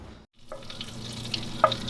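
Butter melting in a pan on the stove gives a steady, close, crackling sizzle that cuts out briefly and then resumes, with a few sharper pops and light stirring clinks and no talking.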